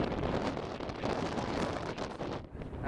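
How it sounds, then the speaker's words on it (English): Gusty outdoor wind buffets the microphone outside a converted flour mill loft building, a continuous loud rushing roar that drops briefly near the end. "actually a little windy today"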